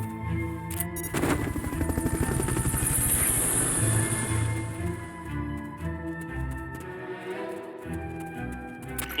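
A Fulton recovery helicopter from the video game Metal Gear Solid Peace Walker roars loud and close with a steady rotor drone, mixed with game sound effects and a high whine.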